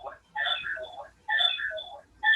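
Someone's phone rings during an online meeting. Its electronic ringtone comes as three short melodic bursts with brief gaps between them, clear and fairly close against near silence.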